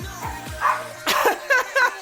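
A pet dog barks nearby in a home during a workout, a few sharp yips and barks in quick bursts after some whimpering pitch sweeps.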